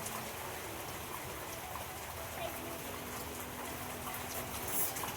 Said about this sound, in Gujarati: બહુ વરસાદ પડે.